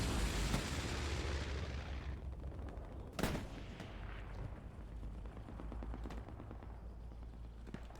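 High-explosive artillery fire in a multiplayer World War II shooter battle on the Driel map, a heavy boom rolling into a long rumbling decay, followed by a sharp blast near the middle and scattered distant thuds.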